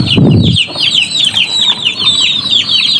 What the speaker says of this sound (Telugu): బ్యాక్గ్రౌండ్ నాయిస్ అయితే మీకు చాలా అయితే కోల్స్ వినొస్తూనే ఉంటుంది